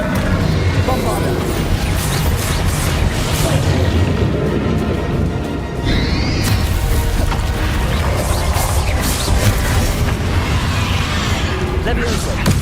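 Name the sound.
Bombarda explosion spell cast in the Hogwarts Legacy video game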